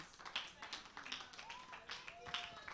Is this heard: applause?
yes